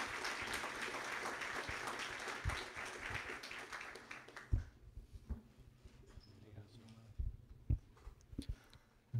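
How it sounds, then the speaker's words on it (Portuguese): A crowd claps warmly to welcome a guest speaker at an evening church gathering, the applause full for about four seconds before thinning out into scattered claps and small knocks and taps. "vamos recebê-lo carinhosamente, como costumamos fazer, com um grande aplauso."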